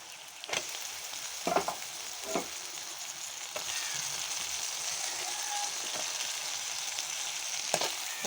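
Boiled jackfruit seeds dropped into spice masala frying in a pan: a steady, moderate sizzle throughout, broken by a few sharp clattering stirs and taps, close by with no talk.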